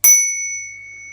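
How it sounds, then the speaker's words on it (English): The small bell on an Engwe P275 Pro e-bike is struck once, giving a single clear, bright ding close up that rings on and slowly fades. "It comes with a little bell,"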